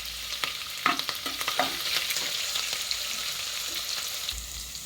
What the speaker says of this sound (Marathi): आता ह्याच वेळेला याच्यामध्ये आपण मिरची घालूया. मिरची पण छान परतून घेऊ.